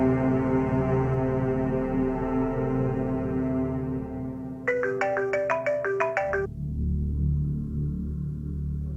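A phone ringtone trills in a quick burst of repeated electronic tones while a call is placed, standing out over a steady musical drone that plays before and after it, with no talking.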